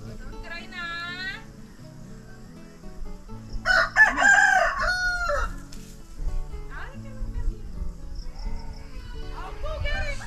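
Chickens crow and cluck close by while being fed spiders, with a rooster's cock-a-doodle-doo standing out over scattered clucking, rustling and background chatter from people nearby.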